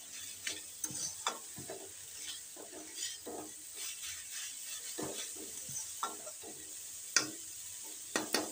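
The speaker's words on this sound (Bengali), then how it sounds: "দেখো শিমটা অনেকটা ভাজা ভাজা হয়ে গেছে, প্রায় হয়েই এসছে।" Flat beans (shim) fry in a pan and are stirred, with repeated quiet scraping and tapping strokes of the spoon over a faint low sizzle, no talk.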